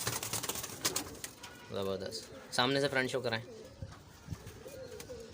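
Pigeons kept by a pigeon fancier coo in short, throaty bursts close by, and someone speaks over them.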